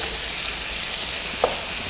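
Chopped ingredients sauté in a pan with a steady, even sizzle and one brief clink partway through, heard alone without talk.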